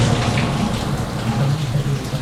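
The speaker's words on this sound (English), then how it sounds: "There's definitely enough rain here to water the vegetable patch." Heavy summer storm rain falls in central Portugal, a dense, steady hiss of drops on surfaces with a low rumble underneath, loud and close throughout.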